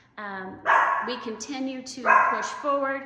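Several pet dogs bark and yip loudly in a close indoor setting, two bursts of overlapping barks over and between a woman's speech.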